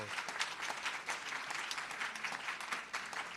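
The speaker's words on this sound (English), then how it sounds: "Let's give Dr. Ball a nice round of applause" An audience gives a warm round of applause for Dr. Ball at a Broward County commissioners' meeting, a steady wash of many hands clapping at once, moderately distant and fairly soft, with no voices over it.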